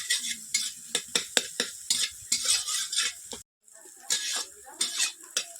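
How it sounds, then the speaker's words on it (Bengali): Egg being scrambled into bhujia in a pan, a spatula scraping and clacking against the metal in quick repeated strokes over a light sizzle, with one brief silent gap partway through. "ডিমটাকে হালকা করে একটা ভুজিয়া করে নেব।"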